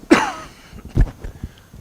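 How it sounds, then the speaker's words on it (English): A single sharp cough, close and loud, followed by a couple of quieter throat-clearing sounds. "So I have my COVID hangover cough."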